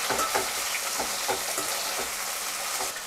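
Three medium tomatoes sizzle and fry in a pan for Andhra-style tomato dal, a steady loud crackle broken by several stirring scrapes, with no voices.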